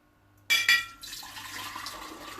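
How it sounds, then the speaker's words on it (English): Water kefir poured through a sieve into a jar, a sudden splashing pour that starts loud with two bright bursts, then settles into a steady trickling stream of liquid running through the mesh, nearby and with no talking. "I'm going to sieve that out into the other jar"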